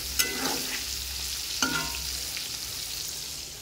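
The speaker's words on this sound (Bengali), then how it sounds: "ভেন্ডি ভাজা হবে।" Okra fries in a wok with a steady close sizzle, two sharp utensil clinks against the metal near the start and a little stirring, with no talking.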